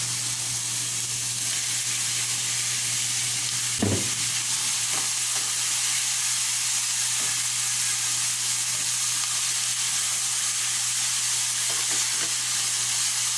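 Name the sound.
sautéing chopped red onion, carrot and green sweet pepper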